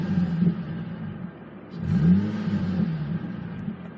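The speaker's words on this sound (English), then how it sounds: "Just give a quick dab on the accelerator just to see if we can hear it." A Nissan 350Z 3.5-litre V6 engine idles, then revs briefly with a rising rumble before settling back to idle; a single quick blip, close by.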